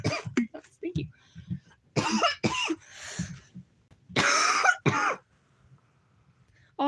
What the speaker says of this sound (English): Also, I'm sick too, so that's why I'm coughing.